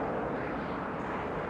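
An SR-71 Blackbird jet aircraft in flight gives a steady, dense, broadband roar that holds loud and unchanging throughout, with no talk.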